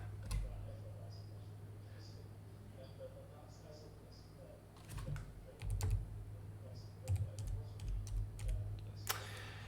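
Fingers tap on a computer keyboard, bursts of quick clicks that grow busier in the later half over a low steady hum.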